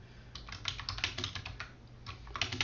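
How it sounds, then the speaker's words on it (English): Someone types quickly on a computer keyboard close by, a rapid irregular clatter of key presses with brief pauses, quiet and alone over a faint low hum. "Just start typing it in."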